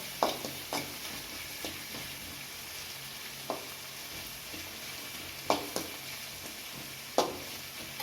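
Adai batter frying in oil is stirred and scraped in the pan, giving a steady close sizzle broken by several distinct spoon scrapes at uneven intervals.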